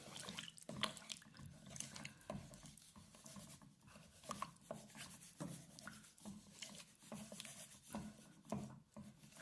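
Semolina and water are stirred together in a pan, giving a steady gritty scraping and wet rubbing that continues rhythmically throughout, close but quiet.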